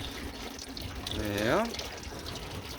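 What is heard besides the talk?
car engine coolant draining into a bucket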